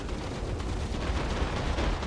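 Defense turrets firing in Borderlands 3, a dense, steady barrage of rapid shots and blasts, loud and continuous, with no talking.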